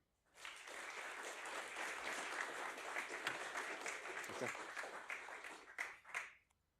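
Audience at a university game jam applauding the teams, a sustained, even round of clapping that swells and then tapers off near the end, heard from a moderate distance.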